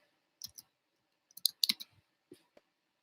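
A few quick bursts of computer keyboard typing and mouse clicks, sharp, close clicks grouped in short clusters with quiet gaps between, in an otherwise silent room.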